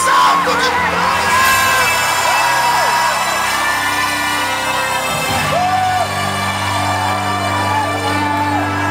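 A church congregation at a large São Paulo gathering shouts loudly together. A dense, sustained swell of crowd yells and whoops rises briefly and continues as a loud roar.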